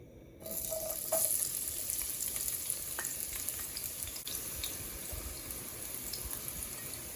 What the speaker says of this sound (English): now that the oil is hot, we're gonna add the remainder of our onion